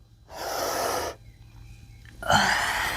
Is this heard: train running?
no